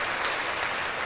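Live show audience applauding at a season finale, a dense steady wash of clapping from many hands throughout, with no talking over it.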